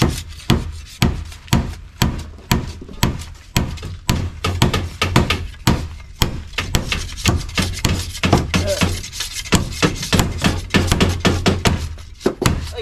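Repeated hammer blows pound on wood while building a small hut, loud and close, falling in a steady, fairly fast rhythm of sharp knocks with brief pauses and no talk.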